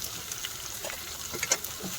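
Dried red chillies and cluster beans stirred in a hot pan give a soft, steady sizzle with faint scraping clicks from the spoon, quiet and close, with no talking.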